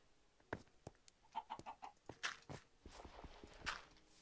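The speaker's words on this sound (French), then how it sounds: "là, les poules, ils donnent des œufs" Minecraft chickens cluck in short bursts while light footsteps and soft taps patter around them, quiet and close, with no talking.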